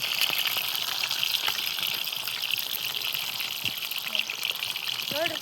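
Fish fries in hot oil for a North Karnataka-style fish fry. A constant loud sizzle and bubbling crackle fills the sound, with faint clinks and brief background sounds over it.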